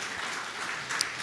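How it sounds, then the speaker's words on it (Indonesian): A church congregation claps together in sustained, dense applause that sounds distant and even, filling the room with a steady wash of hand claps. "saudara menyambut dengan tepuk tangan"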